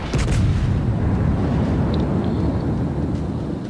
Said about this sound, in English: Oh, that's a nice broadside right there.